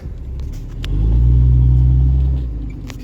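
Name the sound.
vehicle wheels spinning while stuck on a hill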